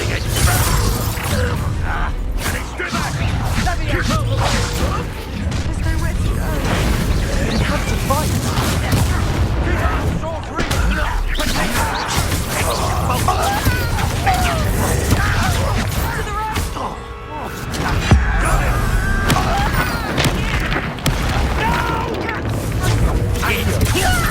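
Bombardment in Hogwarts Legacy: a dense, nonstop barrage of booms, crashes and shattering debris that stays loud throughout, with voices mixed into the battle din.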